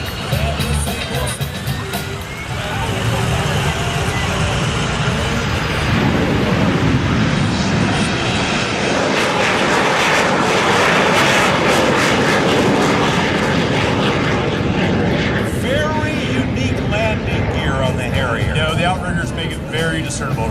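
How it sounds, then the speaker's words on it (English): An AV-8B Harrier II+ jet spools up for a short takeoff at the MCAS Miramar air show, a loud, rising roar that stays heavy and continuous, with commentators and crowd noise underneath. "Should see a real short takeoff here, Rob."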